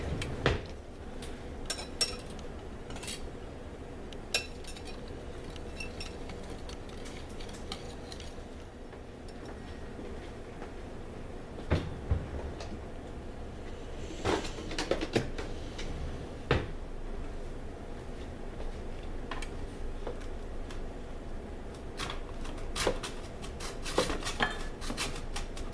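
A metal whisk beating honey lemon curd in a pot, with a steady scraping rattle and repeated clinks against the sides, close and continuous for the whole stretch.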